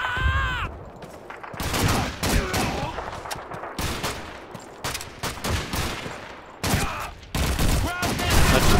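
Rapid bursts of rifle and machine-gun fire in Call of Duty 2, close and loud, firing repeatedly in clusters with short pauses throughout.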